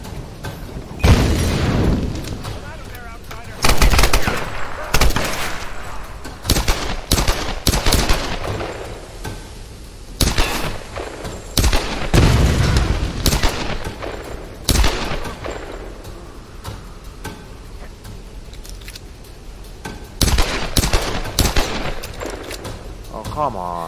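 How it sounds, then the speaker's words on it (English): Repeated grenade explosions and gunshots in the video game Tomb Raider, loud close booms and bursts of rapid fire scattered across a long firefight, with occasional voices underneath. "Who's throwing grenades?"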